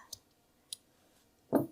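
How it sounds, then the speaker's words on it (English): Scissors snipping yarn while finishing a crocheted amigurumi piece, a few faint crisp clicks spaced apart followed by a louder, fuller snip, close and quiet with no talk. "Then I'm going to get my scissors and snip enough"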